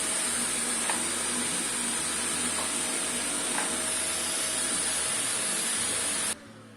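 A Karcher VC 3 bagless vacuum cleaner runs with a steady, even whooshing hiss and a faint high whine throughout. A few soft clicks are audible, and the motor noise drops off abruptly near the end.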